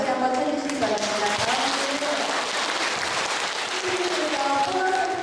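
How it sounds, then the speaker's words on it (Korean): A church audience gives a second round of applause in thanks after a Lenten lecture, with steady clapping from the assembled crowd running throughout while a voice talks faintly over it. "또 감사의 박수를 다시 한번 쳐주시기 바랍니다"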